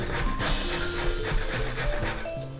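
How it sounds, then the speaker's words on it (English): Zucchini rubbed down the large holes of a metal box grater, a steady close rasping scrape repeated in quick even strokes with no talking. "For the zucchini, I like to just grate it on the side of a box grater, the large side of a box grater."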